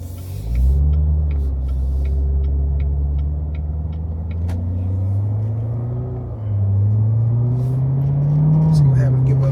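Pickup truck with a 10-speed transmission pulling away under steady acceleration, its low engine note rising in pitch, dropping at a gear change and climbing again, with a voice talking over the rumble inside the cab.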